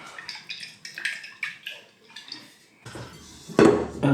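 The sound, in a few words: oil being put into a bowl for dough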